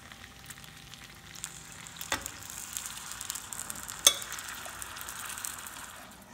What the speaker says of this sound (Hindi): तो उस तड़के में मैं इस दाल को डाल देती हूँ